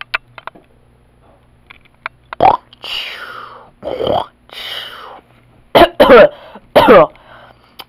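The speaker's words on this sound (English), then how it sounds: "coughing." Several short, harsh coughs burst out in quick clusters, close and loud, with brief quiet gaps and small clicks between them.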